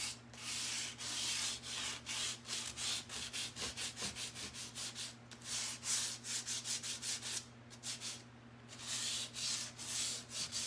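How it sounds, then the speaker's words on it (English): Sandpaper rubs back and forth over the wood of a 1980s hall tree in rapid rhythmic strokes, close and steady, with a few brief pauses between bursts. "this sandpaper is good for that"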